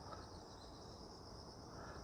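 Autumn insects chirping outside an open apartment window early on a Sunday morning, a faint, even, continuous trill with no other sounds over it.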